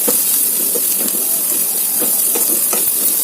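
Masala fries in a pan on the stove with a dense, continuous hiss and sizzle, close and loud, sprinkled with small crackles and pops.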